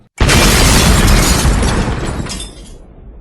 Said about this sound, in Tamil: சுல்தானை நோக்கி குண்டு வீசப்பட்டது